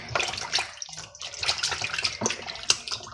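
Raw pork pieces are rubbed and rinsed in water and vinegar at a sink, with steady splashing and trickling water, a brief lull, then uneven bursts of sloshing close up.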